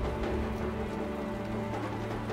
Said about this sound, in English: the rain hasn't stopped for 2 days